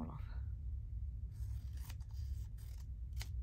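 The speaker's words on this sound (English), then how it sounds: "I'm just going to cut them all off." Scissors snip through thin strips of paper ephemera at a craft table in several quick, quiet cuts, each with a crisp papery slice close to the mic and a low hum underneath.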